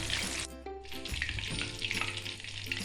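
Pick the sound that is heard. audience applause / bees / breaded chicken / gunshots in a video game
breaded chicken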